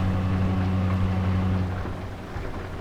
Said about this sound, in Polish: Oczywiście deszcz cały dzień pada od rana.